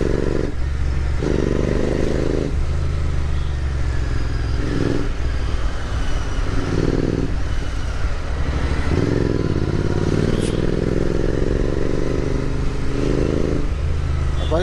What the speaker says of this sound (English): Bike is running pretty well.